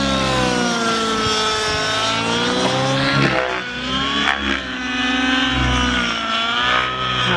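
OS 105HZ R model engine runs after setup with a loud, continuous high-pitched buzzing scream, close and steady, with slight rises and dips in pitch.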